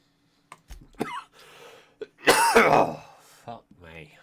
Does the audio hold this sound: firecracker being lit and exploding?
no